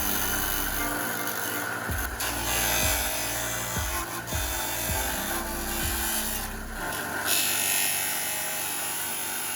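A Clarke CS4-6E belt and disc sander grinds plastic piping, a steady loud motor whir with a repeating rhythmic thump as the pipe is pressed and shifted, close up with nobody talking.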